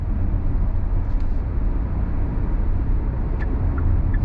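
A Hyundai Tucson XRT SUV accelerates on throttle, heard from inside as a steady low engine and road drone with a few faint clicks, constant and moderately loud.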